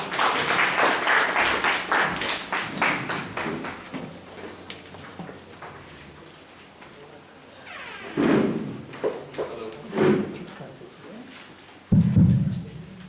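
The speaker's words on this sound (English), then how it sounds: "Give him a big applause." A school audience claps to welcome a guest speaker at an in-house event, a dense burst of applause that thins out and fades, followed by a few scattered knocks and a voice.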